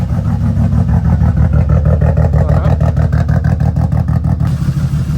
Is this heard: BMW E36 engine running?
yes